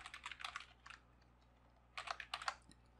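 Two quick bursts of computer keyboard typing, close and fairly quiet, separated by a short pause, with keys clicking in rapid uneven runs.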